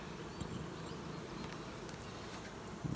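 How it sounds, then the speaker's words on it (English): Bees buzz in a dense, steady drone inside a queen cell builder hive box, heard close up and fairly quiet throughout, with no one talking. "it's definitely full of bees"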